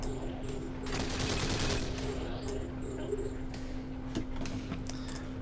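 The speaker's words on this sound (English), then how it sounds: "Let's go ahead and shoot this guy." Ship guns firing in the space game Eve Online, rapid mechanical bursts and clatter over a steady hum, with a faint high electronic tone pulsing overhead.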